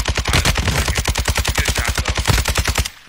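Rapid automatic gunfire in the video game Warzone, a fast, even burst of about two dozen sharp shots in quick succession that stops abruptly, loud and close with no talk over it.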